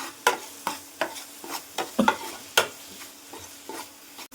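Ridge gourd, tomato and egg curry cooking in a pan, stirred with sharp, rhythmic scraping strokes roughly every half second, close and distinct with no talking.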